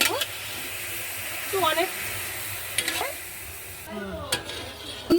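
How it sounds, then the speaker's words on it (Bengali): Taro (kochu) greens being stirred in a pan, with a background sizzle and a few distinct scraping strokes of a utensil against the pan. A voice speaks briefly over the cooking. "এবার এটাকে নাড়াচাড়া করবো"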